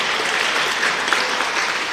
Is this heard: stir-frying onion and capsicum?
no